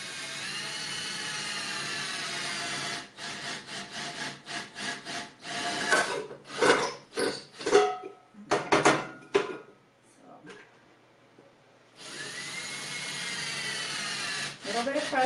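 A power drill bores slowly through a wooden window planter. A steady whirring grind breaks into uneven, stuttering bursts as the bit pushes through, then falls nearly quiet before the steady drilling resumes.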